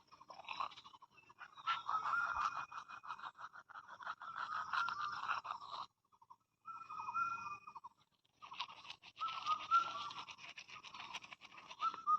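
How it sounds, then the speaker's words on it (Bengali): Toothbrush bristles scrubbing teeth while walking about at home, a steady close, wet scratching rhythm that pauses briefly twice before resuming. "তো এদিকে হাঁটতে হাঁটতে ব্রাশ করে নিলাম"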